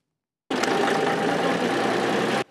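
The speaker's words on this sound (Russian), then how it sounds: "Вот на таком сельскохозяйственном тракторе жители села Безводное катают туристов по местным лесам" An agricultural tractor engine runs at a steady idle in a village setting, a close, loud chugging drone that starts abruptly and holds for about two seconds before cutting off.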